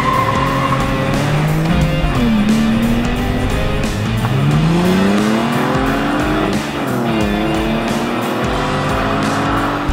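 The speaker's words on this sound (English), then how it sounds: "let's rag these cars." A Porsche Boxster S and a BMW Z4 sports car driven hard for a 0-60 run: loud engines rise and fall through the gears, with tyre squeal over a constant roar and no talking.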